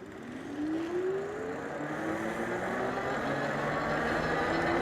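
An electric bike accelerating on its thumb throttle, a rising motor whine climbing steadily in pitch over a broad rush of wind and road noise, continuous and fairly loud, with no speech.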